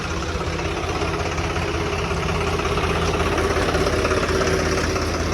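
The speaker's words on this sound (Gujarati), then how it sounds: "ટ્રેક્ટર ચાલુ" A tractor engine idles steadily with a low, even mechanical drone and slight knocking vibration throughout, alone with no voices, during rain in a windstorm.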